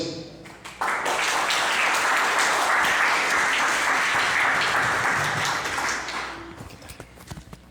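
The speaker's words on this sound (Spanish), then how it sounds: "Recibamos entonces con un fuerte aplauso a Arnaldo Buesa." Audience applause at a church or event gathering, loud and sustained for several seconds after an introduction, with whoops and scattered claps trailing off at the end.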